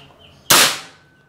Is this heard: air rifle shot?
yes